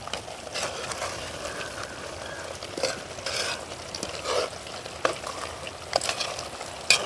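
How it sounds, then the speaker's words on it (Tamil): A spoon scraping and stirring mutton curry in a pot with soft sizzling underneath, in uneven strokes up close. "உப்பை போட்டு நல்லா நல்ல வடிவாக கிண்டி விடுவோம்."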